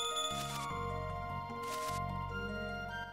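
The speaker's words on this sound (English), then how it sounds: "It's a bird with a bell." A bird wearing a bell in Chrono Trigger, heard as bright bell-like tinkles over a sustained chiming game tune, clear and fairly loud throughout.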